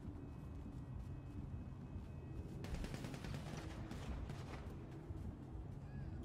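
Rapid gunfire bursts crackle in a GTA roleplay video game session, a dense repeated popping that starts partway through over steady background noise.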